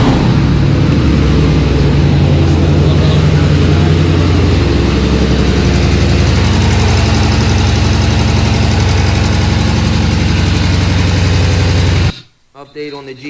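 A 2012 Jeep SRT with a 6.4 Hemi V8 idles close by, rough and uneven from a misfire after floating a valve. The loud, steady rumble runs for about twelve seconds before cutting off.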